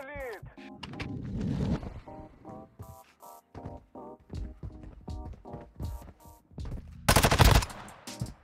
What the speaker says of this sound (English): the Wassup is literally one of the best SMGs in the game